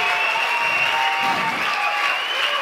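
Audience applause for a comedy act at a lifeguard association show, a dense, steady wash of clapping that stays loud and even from start to finish with no voices breaking through.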